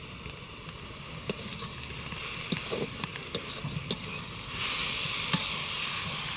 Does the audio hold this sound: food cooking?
yes